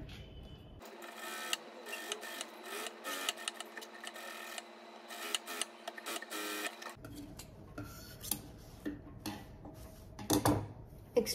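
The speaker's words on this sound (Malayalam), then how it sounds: "എന്നിട്ട് ഇവിടുന്ന് സ്റ്റിച്ച് ചെയ്യാം." A sewing machine stitches old saree fabric in quick rhythmic bursts of needle clatter, pausing and restarting, with a brief whirring run and light handling clicks near the end.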